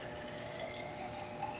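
Water from a sand filter poured steadily into a graduated cylinder in a classroom water-treatment demonstration, a soft continuous trickling and splashing at low level with no talk.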